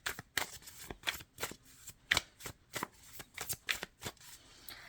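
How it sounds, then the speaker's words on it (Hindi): Gilded tarot deck being shuffled by hand, a quick run of crisp card riffles and flicks in a quiet room. "सबसे पहले गिल्डाइट टैरो से निकालेंगे और उसके बाद हम दूसरे से निकालेंगे।"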